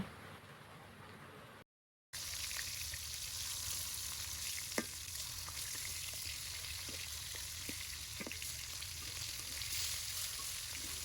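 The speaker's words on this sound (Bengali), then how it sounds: "লবণ হলুদ এবং মরিচ দিয়ে মেখে রাখা মাছগুলো ভেজে নেব" Fish rubbed with salt, turmeric and chili fries in oil in a wok, giving a steady, close sizzle with occasional sharper pops and crackles after a brief cut.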